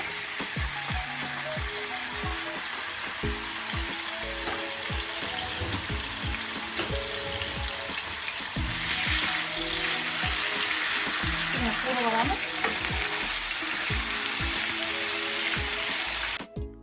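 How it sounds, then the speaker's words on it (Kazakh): Chicken pieces fry in hot oil in a skillet, giving a steady, close sizzle that runs throughout and swells louder partway through, with brief spoken words heard over it. "Тауық қуырылып жатқан сәтте"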